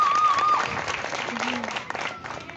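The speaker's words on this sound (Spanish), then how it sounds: "levanten las manos para que reciban los aplausos" Applause from a crowd at a kids' show in Torreón, steady clapping filling the whole stretch at moderate level, with a few voices and faint musical tones running underneath.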